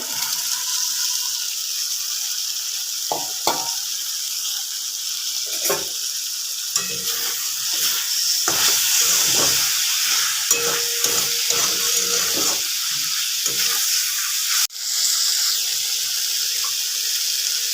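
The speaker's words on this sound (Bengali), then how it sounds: "মশলাটা কষা হয়ে গেছে, এরপর আমি ভাজা ছাতুগুলোকে দিয়ে দেবো।" Fried mushrooms are stirred into a sizzling spice paste for a mushroom and potato curry. A constant frying hiss runs under irregular clanks and scrapes of stirring, with a sharp knock near the end.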